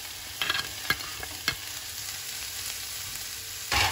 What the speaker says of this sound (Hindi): इसको अच्छे से मिला लेंगे।